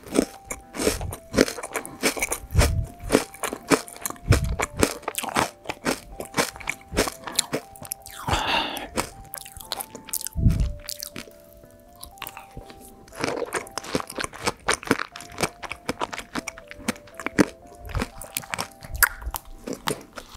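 Crunchy kadaif-filled Dubai chocolate being bitten and chewed up close, eaten alongside yogurt ice cream with chocolate chunks, giving repeated crisp crackling bites and chewing through the stretch, with a steady tonal hum in the background.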